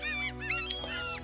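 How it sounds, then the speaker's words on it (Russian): A large flock of about a thousand gulls rests on a sandbank on the Kuban River, producing a dense chorus of overlapping loud calls and honking cries close by, with no talk. "я обнаружил огромную стаю чаек"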